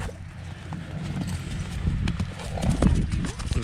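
Young foals' hooves clop on the ground close by, with a whinny-like call; someone talks over the sounds.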